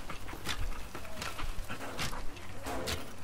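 A pet dog in a video game pants steadily in quick, breathy bursts, close and fairly soft, with faint game sounds underneath.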